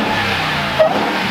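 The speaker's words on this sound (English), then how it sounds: "The supercharger whine is so much more whiny." Supercharged engine of a Ram TRX pickup, heard with the engine bay open: a loud, steady engine roar with a brief rising whine near the end.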